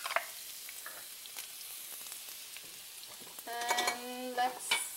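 Mustard seeds with chopped ginger crackle and sizzle in hot oil in a pan, with a steady frying hiss, scattered pops and some stirring and pan clatter toward the end.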